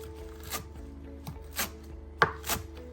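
A knife chops ingredients for pepian verde mole on a cutting board, a few sharp, separate thunks spaced irregularly over a low background hum.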